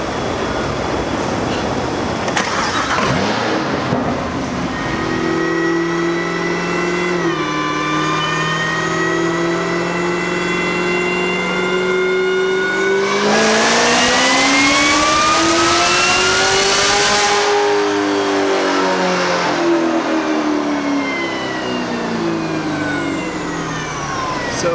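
An LT4-powered ZL1 running a dyno pull on an ethanol blend, loud and close, its engine note climbing steadily in pitch through the rev range, then falling away as the pull ends, with no talking.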